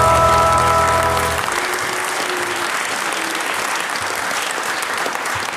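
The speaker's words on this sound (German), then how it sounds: "Es wird im Publikum gebuht" A German TV studio audience reacts loudly with sustained booing, a dense crowd noise that swells in as a short musical sting fades out.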